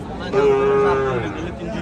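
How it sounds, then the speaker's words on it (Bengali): A hefty bullock, about ten maunds in weight, gives one long, loud moo at a Comilla cattle market, with a steady low bellow swelling for nearly a second over the busy murmur and chatter of the market crowd. "আরও একটি সুঠাম দেহের গরু দেখা যাচ্ছে"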